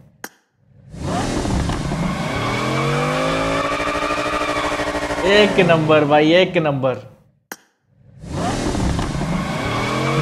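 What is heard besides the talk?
Bugatti car engine in video game PUBG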